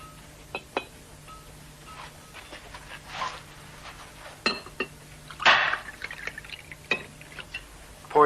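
Whiskey is poured into a glass at a Western saloon bar, heard as a few glassy clinks and two short splashing pours against a quiet room, with no talk.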